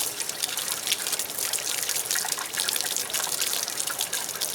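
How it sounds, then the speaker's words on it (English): Water from a garden hose pours and trickles through a 1979 55 hp Evinrude outboard motor, a steady, close splashing flow with constant hiss and no voices throughout. "let's turn the hose on, leave it disconnected, and see if it comes pouring out again"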